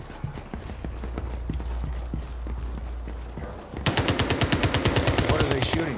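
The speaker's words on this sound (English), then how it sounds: "What are they shooting at?" Rapid gunfire in the video game CrossfireX: a slower, steady run of thumping shots, then a loud, fast automatic burst of evenly spaced rounds that stays close and prominent to the end.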